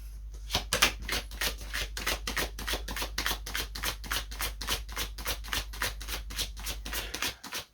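Tarot cards shuffled and drawn by hand, a fast steady run of crisp riffling flicks repeating for several seconds, close and fairly quiet over a low constant hum.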